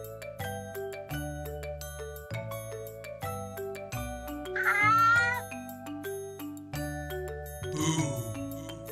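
A cartoon cat meows twice, bright and close, in a cheerful preschool math-patterns song, sitting over bouncy tuned chimes and a steady music bed.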